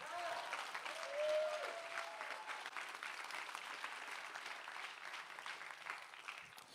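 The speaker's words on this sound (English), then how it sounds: "So a big round of applause for everyone at CallStack." Steady applause from a tech conference audience, many hands clapping continuously, fairly distant, with a faint brief tone near the start.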